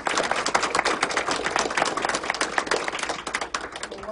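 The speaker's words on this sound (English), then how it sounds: "And a huge applause to the House of Representatives for passing it." Audience applauding the House of Representatives during a governor's bill-signing event, brisk, uneven clapping from a modest crowd, close and crisp, with no talking.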